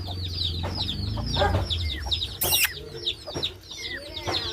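Hen of the Asil-type breed clucking close by in a farm yard, several short repeated clucks and calls over a steady low background, with brief louder bursts partway through.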